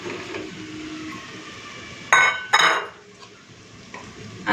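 Eggs go into a pan of fried spice masala for an egg curry: a low sizzle carries under two sharp clatters of a utensil against the pan, then quieter stirring noises.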